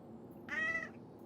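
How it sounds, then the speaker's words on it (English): A cat in Star Citizen gives a single short meow, clear and fairly close, rising out of low background hum and fading after about half a second. "It's disappointed Meow. He wanted treaties."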